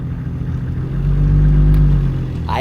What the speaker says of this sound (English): I added some load to the winch, putting tension on the cable and increasing revs as I did so.